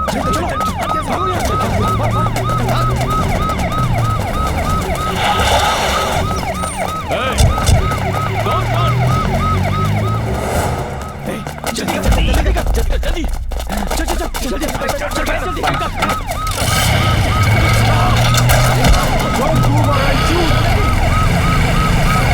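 A police siren wails continuously in a wavering, repeating cycle throughout, loud and near, with shouting voices and engine noise around it in a tense street scene.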